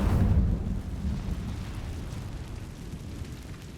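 The Incendio fire spell in Hogwarts Legacy lets out a rumbling, roaring burst of flame that swells loudly at first and then settles into a sustained crackling whoosh.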